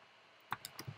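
Keys on a Mac computer keyboard tapped a few times in quick succession, light close clicks after a short quiet pause, with no talking.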